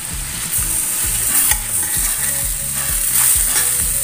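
Chicken and tomatoes frying in a pan over low heat for sweet soy chicken, a continuous sizzle with repeated rhythmic scraping and stirring strokes, close and fairly loud, with no talking.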